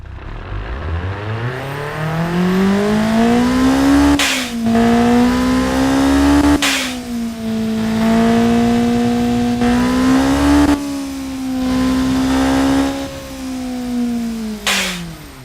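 The 1.6-liter turbocharged engine of a Chevrolet Cruze WTCC race car revs loudly and steadily, its pitch rising, holding and dipping across several sustained pulls, broken by short sharp cracks between them.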